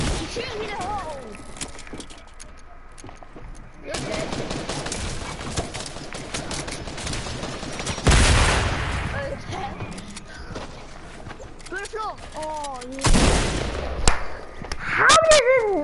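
Rapid gunfire from a player shooting in an online video game, crackling volleys of shots near and far, dense bursts and louder blasts, while players talk and shout excitedly over the fighting.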